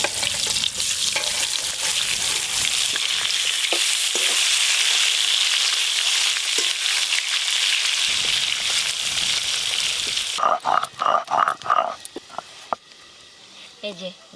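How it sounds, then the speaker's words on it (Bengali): Small tangra fish fry in hot oil with a loud, dense, continuous sizzle up close for about ten seconds; then the frying noise drops away, leaving quieter kitchen clatter and a brief voice. "বাকি মাছগুলো একসঙ্গেই ভাজা হয়ে যাবে।"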